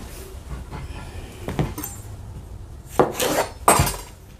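A knife cuts through food on a board, halving it with a few sharp knocks of the blade against the surface, close and distinct against a quiet kitchen background, no speech.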